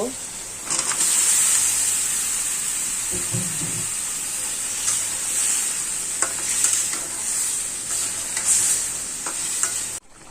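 Pointed gourd and potatoes frying in a garlic spice paste in a pan, with a loud, steady sizzle and hiss and frequent close scraping from stirring.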